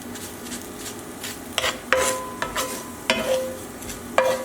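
Garlic breadcrumbs browning in a pan are turned with a utensil, giving several sharp metallic scrapes and clinks over a soft steady sizzle, close and loud, no voices.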